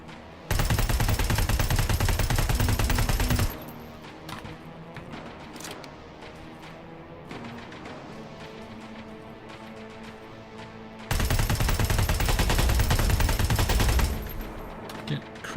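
Rapid automatic gunfire from the video game Terminator Resistance comes in two long, loud bursts, with quieter single shots, clanks and impacts between them.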